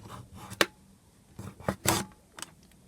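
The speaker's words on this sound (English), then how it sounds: "insert the blade into the cutting track and cut." A small blade scrapes and slices paper along the cutting track of a We R Memory Keepers mini envelope and tag punch board, in several short, close rasping strokes.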